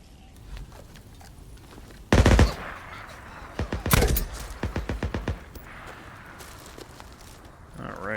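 Machine gun fire crackles from Camp Pioneer in Days Gone, bursts of rapid shots at middle distance over a rumbling outdoor ambience, with a sharp louder burst near the start and trailing volleys after.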